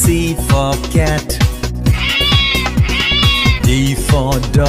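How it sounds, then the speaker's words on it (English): A cat meows over and over in quick succession, loud and close, with whiny drawn-out cries that edge toward caterwauling. "C for cat."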